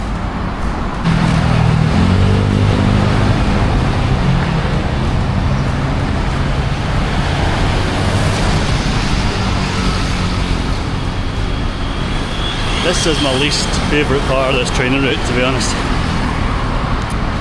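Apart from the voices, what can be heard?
road traffic passing in Jakarta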